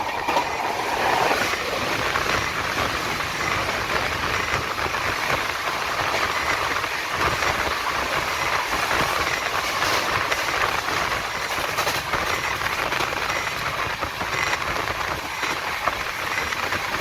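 Puri Duronto Express, the 22201 service, rumbling into Kharagpur Junction with a steady, continuous roar of wheels and carriages, loud and close, carried on from start to end without any voices.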